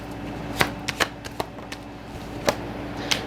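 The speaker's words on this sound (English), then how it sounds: "Let me pull a couple cards." A deck of tarot cards is shuffled and cards are pulled, giving sharp riffling snaps and flicks in an irregular run of about eight distinct bursts, close and fairly loud, with no talking.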